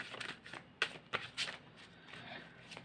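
Oversized tarot cards are shuffled by hand in soft, uneven bursts of papery riffling, close and fairly quiet, with a few crisper slaps as the cards slip.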